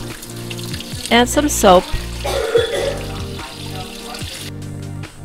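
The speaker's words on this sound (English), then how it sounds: "So I'm filling the washer with warm water" Warm water pours from buckets into a portable washer, giving a splashing, running-water sound under a person speaking.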